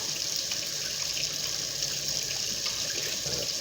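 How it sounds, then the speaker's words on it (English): A kitchen tap runs steadily as hands are washed beneath it, a continuous close hiss of water splashing into the sink with no talk. "let me get my hands washed. Get that washed up."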